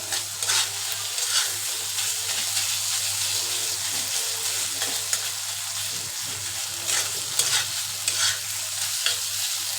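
Shredded chicken frying in a pan for a spicy fry, a continuous close sizzle broken by repeated stirring scrapes and clatters at irregular moments, no one speaking.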